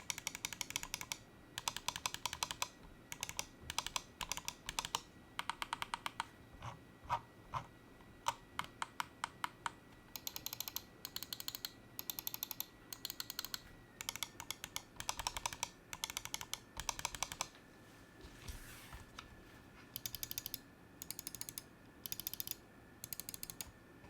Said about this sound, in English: I'm going to pull out some other mice and let you kind of hear them